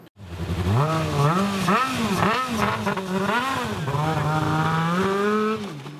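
A student-built race car engine runs and revs loudly nearby, its pitch rising and falling in repeated throttle blips over about six seconds, with no talk over it.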